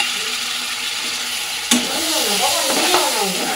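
Yogurt, pepper and salt-marinated chicken hits a hot pan of onion, ginger and garlic fried until red, bursting into a loud, steady sizzle that crackles and hisses alone for a few seconds.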